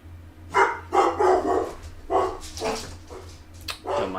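Several dogs bark indoors in a run of sharp, moderately close woofs, with brief pauses between bursts.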